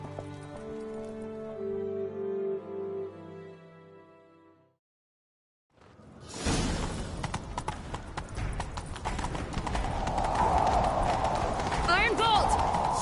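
Horse hooves clatter in a fast galloping rhythm in a video game after a brief pause, loud and close, following a stretch of music.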